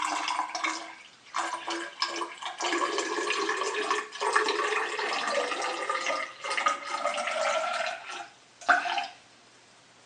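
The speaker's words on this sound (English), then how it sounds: "we'll pour the water into the vase" Water poured into a vase for a homemade lava lamp experiment, a steady splashing, gurgling pour that runs for several seconds with brief pauses, close and fairly loud, no talking.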